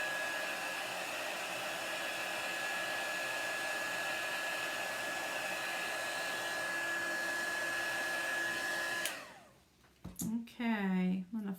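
Hair dryer blowing steadily on chalk paste, a loud constant whine and rush for about nine seconds before it switches off and winds down, followed by a voice talking.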